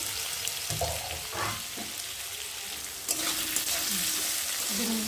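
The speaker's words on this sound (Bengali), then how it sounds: "সাথে আলু দিয়ে একটু ভেজে নেব।" Potatoes sizzle and crackle in hot oil in a pan, a steady close frying hiss with occasional stirring scrapes and clatter throughout.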